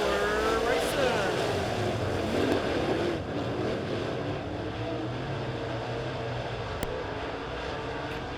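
Race cars accelerate at a green flag during a heat race at Springfield Raceway, a dirt oval, with a loud sustained engine roar from the field that eases slightly after a few seconds.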